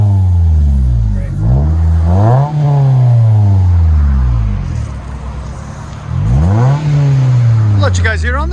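A 2010 Toyota Matrix S with a standard 5-speed and a Borla Pro-XS exhaust revs loudly and close by, its deep tone climbing and falling through two long throttle blips, with a short third rise at the end.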